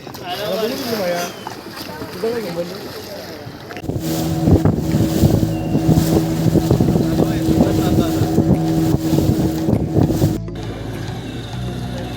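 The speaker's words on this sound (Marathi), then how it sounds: "आता बोट राईड करून आपण परत आपल्या ठिकाणी चाललो आहोत" A motorboat runs back toward shore at Malvan beach in Konkan, its loud steady engine drone with wind buffeting the mic, while people talk and laugh over it.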